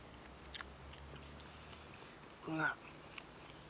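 A single crisp crunch of a bite into a hard, brittle shellfish shell, close and brief, amid quiet surroundings.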